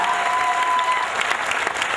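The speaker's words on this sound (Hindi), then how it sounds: "एक बार जोरदार तालियां आदरणीय ताऊ शेखावटी जी के लिए।" An audience at a Kavi Sammelan poetry gathering at the Swadeshi mela gives loud, brisk applause for the poet Tau Shekhawati, a dense burst of clapping that holds for two seconds, close and full.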